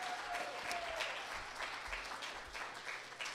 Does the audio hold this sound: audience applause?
yes